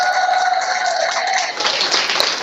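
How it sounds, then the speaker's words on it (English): An audience claps for Governor Ned Lamont at a 2024 election event, a brief, dense burst of applause that swells slightly toward the end. "A big round of applause for Governor Ned Lamont"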